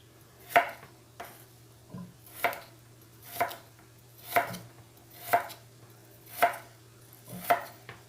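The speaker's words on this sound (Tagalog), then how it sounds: "So, ito malapit na natin matapos lahat hiwain ang ating patatas." A knife chops potatoes for french fries on a cutting board in a steady rhythm, about eight close, crisp cuts spaced roughly a second apart.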